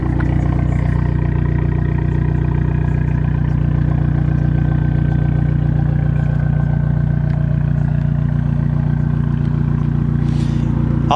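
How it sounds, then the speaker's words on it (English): A 2013 Fiat Abarth 500 Cabriolet with a turbocharged engine sits idling, its exhaust giving a steady, loud, close low drone that barely changes across the whole stretch. "Kind of hear the exhaust."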